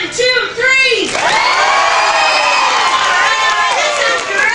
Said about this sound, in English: we need you guys to cheer and clap as loud as possible